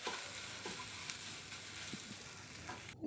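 Onions and vegetables frying in a pan for street-style egg rice, a soft continuous sizzle with a few stirring knocks, moderately quiet and without speech.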